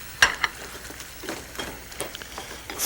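Glazed carrots being folded and stirred in a pan with black pepper, salt, lemon juice and minced fresh coriander, giving soft scraping and light sizzling close by, with a few sharper utensil clicks.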